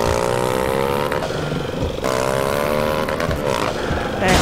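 Motorcycle engine in the GTA Brasil video game during a motoboy delivery mission, loud and close, revving and shifting pitch as it accelerates, dips and climbs again, with no one speaking over it.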